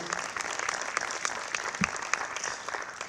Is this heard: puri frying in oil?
no